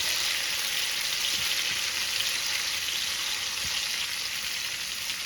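Minced garlic sizzles steadily in a hot pan, forming the base of an Italian pasta sauce: a continuous bright frying hiss with faint crackles, close and even throughout, no voices.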